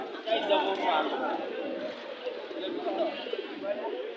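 Pigeons coo softly and repeatedly amid a busy crowd at a pigeon market in Bangladesh, with people chattering throughout and the low cooing partly buried under the voices.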